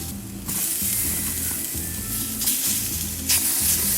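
Tomatoes dropped into a pan of browning mushrooms for a small mushroom, spinach and feta frittata, giving a loud continuous sizzle with a few sharp crackling flare-ups and light stirring, close and without talk.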